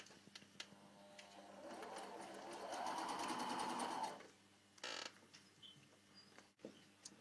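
Domestic sewing machine stitching a first seam while fitting a zipper, a close whirring run of rapid needle strokes lasting a few seconds, then a short burst and quiet handling clicks.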